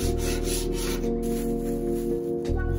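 Metal scraper grinding steadily across the flat top griddle of a Mill Scale 94 gallon smoker, clearing caked gunk and drippings in a close, continuous rasping scrape with no talk.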